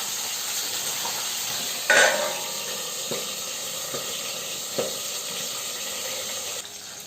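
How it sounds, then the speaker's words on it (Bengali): Hilsa fish fries in a pan with a steady, soft sizzle of hot oil, a few faint clinks and scrapes breaking through, and no talking. "তো এখানে আমার মাছটা ভাজা হয়ে এসছে।"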